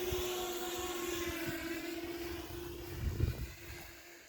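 FPV drone copter flying near an airsoft game, a steady high-pitched motor whine with a sustained tone, holding fairly constant and loud, with a brief low rumble swelling near the end; no talking.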